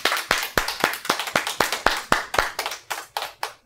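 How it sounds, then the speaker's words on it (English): A small group claps in a steady, near rhythmic pattern of sharp individual hand claps, about three per second, close by with no talking. "let's give a round of applause for John"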